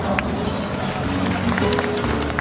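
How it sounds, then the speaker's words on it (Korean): Audience applause breaks out at a K-pop-style showcase event in Lotte World, a steady dense patter of many hands close by with crowd noise and voices mixed in. "박수 한번 주세요"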